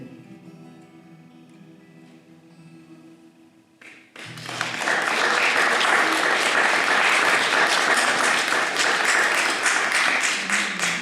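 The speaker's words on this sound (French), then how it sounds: "on applaudit le musicien qui nous a accompagnés" After a few seconds of soft, quiet instrumental tones, applause suddenly bursts out at a literary salon as the audience honors the accompanying musician, a loud, dense, sustained clatter of many hands continuing to the end.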